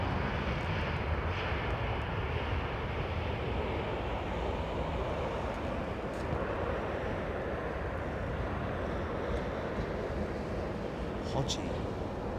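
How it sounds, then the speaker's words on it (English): A Lufthansa Airbus A350 passes overhead near Heathrow, a loud, continuous broadband jet roar that stays steady throughout, with a few faint clicks on top. "Lufthansa 350 over the top."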